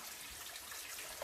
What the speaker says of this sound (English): the water seems to be flowing from the outside